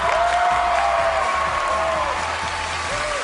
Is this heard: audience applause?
yes